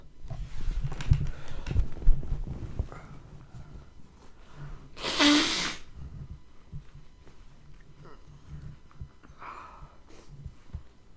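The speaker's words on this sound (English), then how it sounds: "sneeze much?" A single sharp, hissing sneeze bursts out midway through a quiet stretch of low rustling and thumps.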